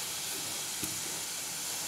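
Oil sizzles steadily over gram flour cooking in a pan, a continuous even hiss with no pauses, close and moderately loud.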